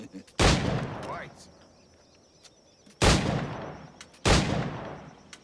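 Three sharp, loud firearm shots in an Assassin's Creed video game, each a sudden crack with a short decaying tail, spaced irregularly with quiet gaps and faint background sounds between.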